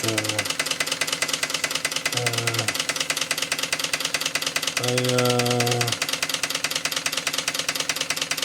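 A Markie GEM model steam road roller engine running on compressed air, ticking over with a fast steady mechanical beat, broken by three short harmonic hoots or whistles, the last one longer.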